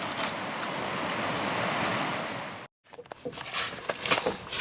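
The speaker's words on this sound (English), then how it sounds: "Nice little rapids." River rapids roar as broadband rushing water, steadily, then cut out abruptly and return as choppier splashing and gurgling with wind buffeting the microphone.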